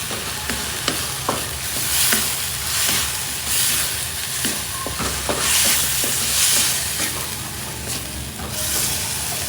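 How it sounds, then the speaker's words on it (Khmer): Beef stir-fried in a pan with soy sauce sizzles loudly and steadily, with repeated scraping stirs of the spatula sounding close by, alone without talk. "ឆាចុះឆាឡើងតែកុំឆាយូរពេកកុំឲ្យសាច់គោនឹងឆ្អិនខ្លាំង"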